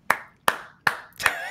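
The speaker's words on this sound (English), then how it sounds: "let's go ahead and clap for that" Four sharp claps at a steady, slightly uneven pace, close and fairly loud, each ringing briefly in a small room, with no talk over them.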